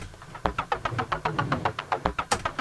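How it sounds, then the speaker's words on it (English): A dubstep-style synth patch built in Serum and run through a compressor pulses in a steady, rapid throbbing rhythm, loud and upfront, each beat a bright buzzy hit over a sustained low hum. "Here's how it should sound with a compressor."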